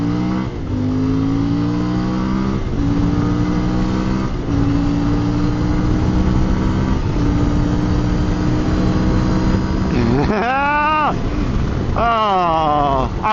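Sport bike engine revving hard on a gravel road, rising and falling through the gears with wind buffeting the microphone, loud and close; a rider's voice is partly heard over the engine.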